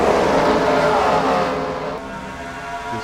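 Race cars at full speed on the Phoenix Raceway oval during a restart, a loud continuous roar of engines passing close and fading slightly toward the end, with no talk over it.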